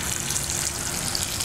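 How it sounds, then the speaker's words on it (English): Water is sprayed steadily at the base of a door during a 15-minute leak test, with sheetrock below. A continuous close hiss of spray sounds alone at an even level throughout. "So basically I'm just spraying underneath,"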